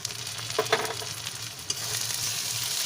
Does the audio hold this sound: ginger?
yes